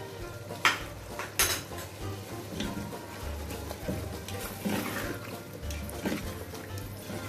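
Ginger, garlic and green chili paste frying in a pot for beef Shindi biryani, a quiet sizzle under sharp metal spoon clanks and scraping stirs against the pot.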